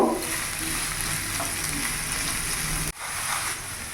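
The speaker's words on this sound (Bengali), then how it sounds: "ভালো করে নাড়াচাড়া করে একটু সফট হওয়া পর্যন্ত একটু ভেজে নেব।" Vegetable filling with carrot stir-frying in a pan until soft, a steady close sizzle with a faint low hum, broken by a short pause before the crackle resumes, no talking.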